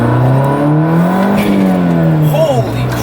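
BMW E30 engine revving under acceleration, a loud rising then falling engine whine heard from inside the car, with a voice speaking partway over it.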